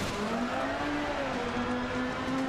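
Mitsubishi Lancer Evo engine in the Richard Burns Rally video game, a continuous loud rally drone that rises and dips slightly, with a broad turbo hiss spread over the top throughout.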